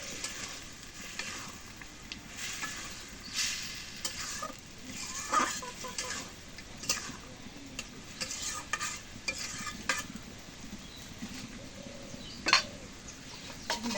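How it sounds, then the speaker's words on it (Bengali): Meat being sautéed in spiced masala in a pan, a constant close sizzle broken by repeated stirring scrapes and clinks of a spoon against the pan. "মাংসটা দিয়ে একটু কষাই নিই"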